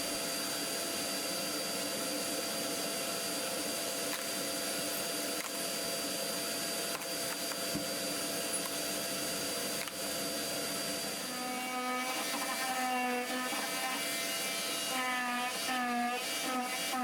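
A steady, whining motorized tool grinds continuously through strong foam board while shaping a kayak seat, the pitch wavering and rising toward the end as it bites deeper, with no voices.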